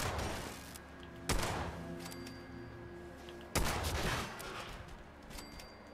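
Gunfire in the post-apocalyptic game Fallout 76 comes as two sharp, loud shot blasts a couple of seconds apart, each trailing off over a humming tonal backdrop.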